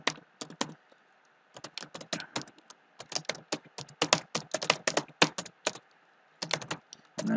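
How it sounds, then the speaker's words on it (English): Rapid bursts of clicking keystrokes on a computer keyboard as an address is typed, close and clear, with short pauses between groups of taps. "So go ahead and type in the address."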